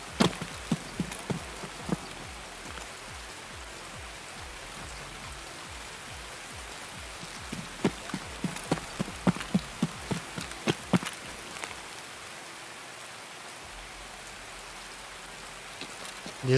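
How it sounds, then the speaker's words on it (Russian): Steady rainfall in the video game Escape from Tarkov hisses throughout, with scattered clicks and taps from drops hitting surfaces, fairly close and moderately loud. "Из-за дождя вообще ничего не слышу."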